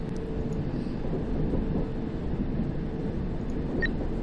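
Train running steadily in the London Underground Simulator video game, a continuous low rumble of wheels and motor holding at a constant speed with a faint brief high tone near the end, no talk.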